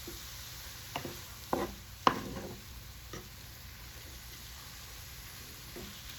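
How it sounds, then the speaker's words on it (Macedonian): A mixture of sorrel, onion and pepper fries in a pan with a soft, constant sizzle, broken by a few sharp clinks and scrapes from stirring, and no voices. "Те вака пржената смеса од штавели, кромите и пиперката."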